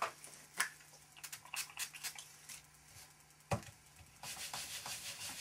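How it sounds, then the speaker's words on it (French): An ink stamp being cleaned by rubbing during card making, giving soft scuffing and brushing strokes in short bursts, with a sharper knock midway and a steadier hiss toward the end; no one speaks. "Voilà, je vais nettoyer mon tampon."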